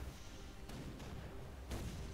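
Artillery fire from a tank shell in the ShellShock Live video game, a few booming shots over a steady low rumble of game audio.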